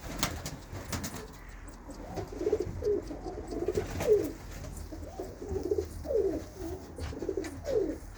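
Young pigeons coo nearby in soft, low, repeated bursts that fall into a steady rhythm over faint background noise.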